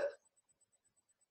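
A voice imitates a single hiccup in a pronunciation lesson, one short, sharp gulping sound heard close and alone, followed by near silence.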